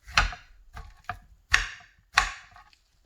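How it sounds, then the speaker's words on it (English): A knife chops pumpkin on a cutting board in five crisp, separate thuds at an uneven pace, close and clear with quiet between strokes. "Place bigger chunks of pumpkin on cutting board"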